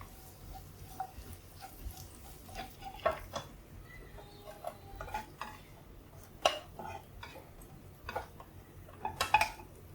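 A utensil scoops fried bitter gourd pieces out of a pan, making scattered light metallic clinks and scrapes, a few sharper taps standing out against a quiet kitchen background.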